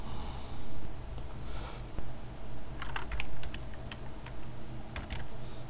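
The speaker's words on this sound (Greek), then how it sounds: "Στο πεδίο αναζήτησης του YouTube πληκτρολογούμε το βίντεο που θέλουμε να βρούμε" Typing on a computer keyboard while searching for a video, a quiet run of light key clicks with a few bursts of faster taps over faint room noise, no speech.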